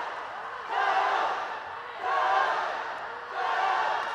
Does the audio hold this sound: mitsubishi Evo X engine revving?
no